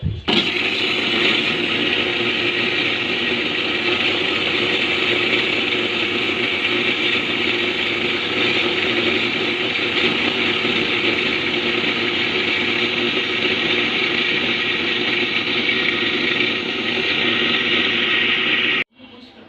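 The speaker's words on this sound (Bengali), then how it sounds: "এখানে জুস যে ম্যাঙ্গো জুসটা তো এটা হচ্ছে এখন ব্লেন্ডার করে নিচ্ছি" An electric blender whirs loudly and continuously while blending mango juice, a steady high motor drone that cuts off abruptly near the end.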